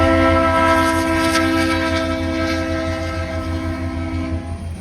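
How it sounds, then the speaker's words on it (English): A freight train on North Carolina rail lines runs alongside at a crossing, its loud sustained horn chord sounding close and dominant over the rumble of the cars, gradually easing toward the end. "We were neck and neck with this train,"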